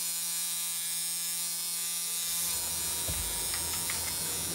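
A homemade prison tattoo machine runs with an off-center flywheel driving the needle up and down, making a steady close electric buzz like a small shaver that grows rougher and rattlier partway through.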